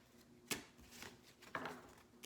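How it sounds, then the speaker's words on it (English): Tarot cards are shuffled by hand in two quick, crisp riffling bursts about a second apart, close and fairly quiet, with no talking. "Now let's collapse this and shuffle"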